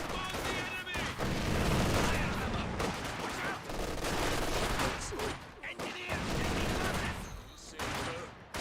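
Dense, sustained gunfire from a Grenadier squad in a Company of Heroes 2 battle, overlapping volleys and bursts crackling continuously with a commentator's voice talking over the combat throughout.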